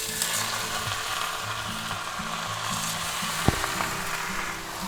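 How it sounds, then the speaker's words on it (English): Pre-cooked smoked ham sizzling in a hot oiled pan, a steady close frying hiss throughout with a brief sharp knock near the end and no talking. "We're going to go ahead and take our ham and put that right in there."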